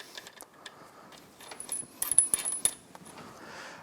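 A washer and outer bolt are fitted onto the drive clutch of a Yamaha Grizzly YFM700 ATV, giving a cluster of close, light metallic clinks and taps, sharpest in the middle, over a quiet background.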